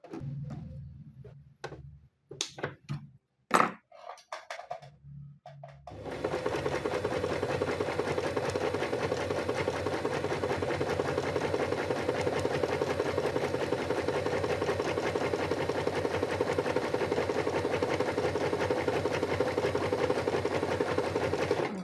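A sewing machine stitches a test seam after rethreading, starting with a few sparse clicks and knocks, then running in a steady, loud, continuous mechanical whir for the rest of the time.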